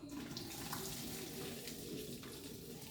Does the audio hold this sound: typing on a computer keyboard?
no